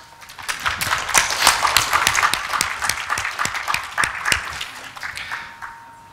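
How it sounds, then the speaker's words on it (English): Applause from a room of attendees at a Magento developer conference, a round of many hands clapping that swells quickly, stays lively with distinct individual claps, then fades as it thins out. "So I think those guys deserve some applause."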